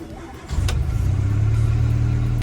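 A warm Rover P4 engine is started with the choke off. It cranks briefly, catches about half a second in, and then settles into a steady, close, loud idle rumble.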